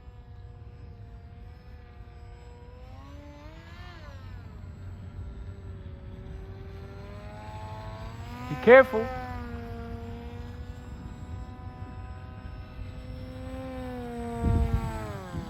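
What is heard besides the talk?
model airplane flying with propeller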